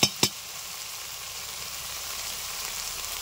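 Ground cumin, coriander, dried chilli powder, salt and turmeric sizzle steadily in hot oil over medium heat while being cooked down for an egg curry, after two short sharp clatters at the very start.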